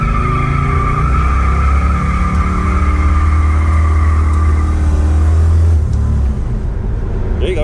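A Dodge Coronet 440 with a manual valve body performs a tire burnout: a loud, steady engine drone and tire roar build for about six seconds, then abruptly drop off, with faint voices nearby.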